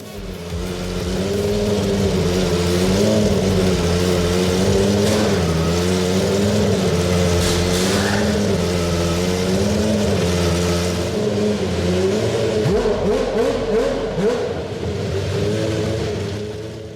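Peugeot 905 racing engine, a naturally aspirated 3.5-litre V10 of just over 600 horsepower with light-alloy construction and twin overhead camshafts, revs loudly and continuously. Its harmonic tone rises and falls in steady waves and stays close throughout.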